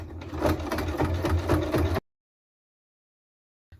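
Domestic sewing machine stitching the seam of a fabric bread basket with a lining, running steadily and close for about two seconds, then stopping abruptly into silence.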